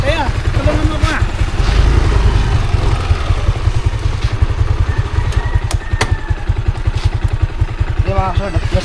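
A motorcycle engine starts and settles into a loud, close, rapid chugging idle that runs steadily throughout, with a brief rev near the start.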